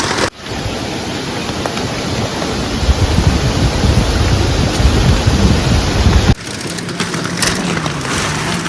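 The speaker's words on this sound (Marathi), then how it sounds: "पण जोरदार पाऊस चालू झाला परत" Heavy monsoon rain pours down on a night campsite with tents in a forest near a river corner in Ratnagiri. The downpour is a loud, steady roar that shifts abruptly near the end.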